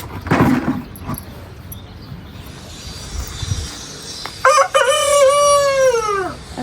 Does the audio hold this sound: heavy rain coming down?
no